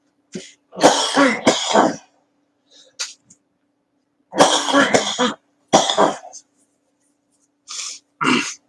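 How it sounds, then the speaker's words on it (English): Several harsh coughs come in short bursts, close to the listener, separated by pauses with a faint low hum in the background. "That might be why you're coughing."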